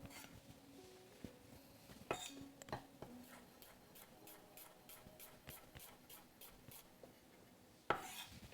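Knife slicing food into thin rounds on a board, likely for a Balinese duck lettuce-wrap meal, with a steady run of soft, close ticking cuts and a couple of sharper knocks.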